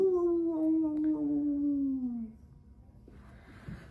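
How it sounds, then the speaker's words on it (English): A dog gives a long, drawn-out howl or whimper, its tone sliding slowly downward for about two seconds before fading into quiet background noise. "Oh, a little dog video."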